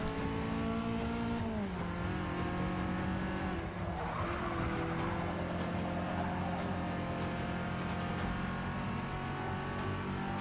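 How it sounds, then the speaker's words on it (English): Lancia race car in Forza Motorsport 6 holds a loud, sustained engine drone with steady harmonic tones. The pitch drops near the start as it shifts and eases off, and tire noise swells briefly in the middle. "Love the sound of this car."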